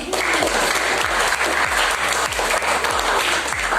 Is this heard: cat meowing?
no